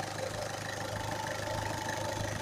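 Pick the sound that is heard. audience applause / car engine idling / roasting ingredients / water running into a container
car engine idling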